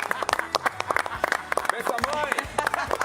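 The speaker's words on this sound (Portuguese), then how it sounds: "queria uma salva de palmas" A studio audience claps in a lively, uneven burst on a football talk show, sharp hand claps mixed with overlapping excited voices and laughter.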